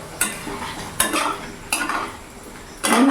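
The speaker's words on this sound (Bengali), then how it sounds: "এবার দিয়ে আমাকে ভালো করে নেড়ে নিতে হবে" A spoon scrapes and knocks against a pan while potatoes with yogurt are stirred. Four distinct clattering strokes sound close up over a soft background sizzle.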